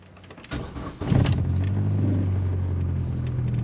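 Vauxhall Corsa B car engine running, opening with clattery mechanical noise and a sharp jump in loudness before settling into a steady, close low rumble at idle with no talk.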